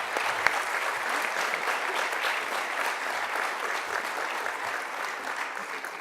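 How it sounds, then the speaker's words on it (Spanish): Sustained applause from an audience at a democracy awards ceremony fills the room as a dense, steady wash of clapping, loud and continuous for several seconds without a break. "Démosle un fuerte aplauso."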